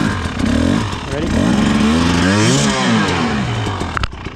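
A 125 enduro motorcycle revs hard and close while riding up and over a log on a trail, its engine pitch rising and falling, with a rattle near the end.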